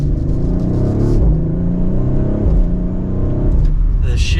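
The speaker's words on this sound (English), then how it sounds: "I'd love to hear that exhaust pop a little bit more" A 2023 Audi RS5 Coupe exhaust roars under hard acceleration, rising in pitch through quick shifts with brief dips between gears, loud and close from inside the cabin, with a person speaking over it.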